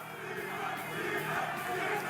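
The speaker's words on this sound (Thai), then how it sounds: "โอ้โหเสียงกองเชียร์ของวาเลนไทยทีโบครับ" A crowd of fight fans roars in cheering support at a Max Muay Thai bout between a Thai boxer and a French fighter, a dense, steady wall of voices without pause for the whole moment.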